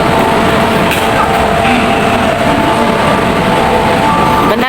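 Ocean Express amusement park train passing, a loud steady rumbling roll with faint squeals over continuous crowd noise, and a voice talking over it.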